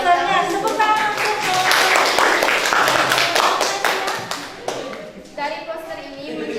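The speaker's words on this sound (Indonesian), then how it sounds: "Tepuk tangan untuk" A classroom of students clapping for a poster in a science lesson, a loud cluster of hand claps lasting several seconds before thinning into a few scattered claps, with voices over it.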